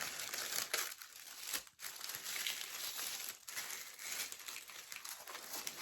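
Close, continuous crinkling and rustling of tissue paper, with brief pauses as the sheets are handled and folded.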